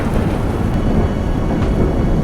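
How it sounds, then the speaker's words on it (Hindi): Heavy rain hisses steadily under a deep, continuous rumble of thunder, loud and close, with no voices. "सिर्फ बिजली की गरज और बारिश का शोर।"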